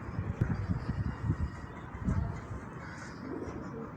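Domestic pigeon cooing softly at close range, a few low, throaty coos in uneven bursts over quiet background, with no talking.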